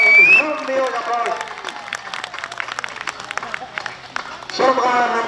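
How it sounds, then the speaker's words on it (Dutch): Crowd applause at a greyhound race in Rotterdam after the winner is announced, scattered clapping under a tonal announcer voice and music, moderately loud, with sharp individual claps standing out mid-clip before louder sound returns at the end. "Geef u allemaal een groot deel applaus."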